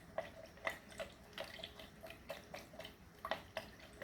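Homemade mosquito repellent liquid trickles and drips in soft, irregular splashes, faint and close, with no voices.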